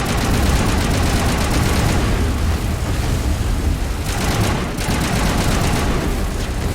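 Sustained gunfire from a Mass Effect 1 firefight, a loud, dense barrage of rapid shots and booms that continues without pause throughout.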